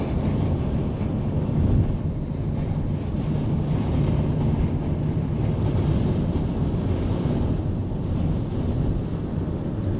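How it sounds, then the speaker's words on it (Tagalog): Strong wind gusting around the Newlands area during a road trip, a loud, steady, unbroken roar with low buffeting rumble across the whole stretch and no talking. "Ang lakas pa man din ng hangin."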